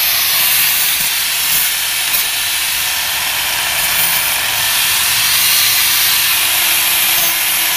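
Food sizzles on a grill with a loud, continuous hiss and crackle that holds steady and close throughout, with no talking.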